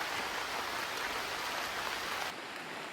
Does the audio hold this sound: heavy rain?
yes